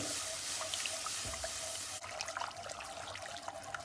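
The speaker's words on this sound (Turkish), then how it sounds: "İki su bardağı soğuk su ilave ediyoruz." Cold water pours steadily into a soup pot for Turkish ezogelin soup, a continuous splashing gush that shifts in tone midway, with faint drips and no talking.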